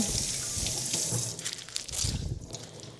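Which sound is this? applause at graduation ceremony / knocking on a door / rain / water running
water running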